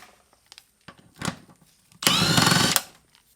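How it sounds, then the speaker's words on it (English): Power tool whizzing out engine mount bolts on a Mercedes E55, a few short clicks and a brief whir, then one loud sustained high-pitched burst of under a second, close by, no speech. "you're going to whiz out these bolts right over here"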